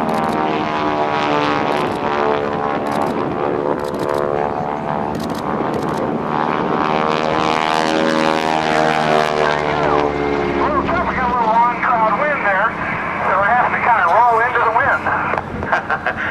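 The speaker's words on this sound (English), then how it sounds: "This airplane has a 600 horsepower motor on it." A 600-horsepower aerobatic propeller airplane performs a slow roll at a naval air station airshow, its engine roaring loud and steady, then rising and falling in pitch as it passes, with an announcer talking over it throughout.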